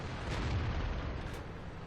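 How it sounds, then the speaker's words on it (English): An artillery shell strikes a tank in a tank-battle video game, producing a loud, dense blast that rumbles on steadily for about two seconds with no voices. "So I got killed by the artillery unit."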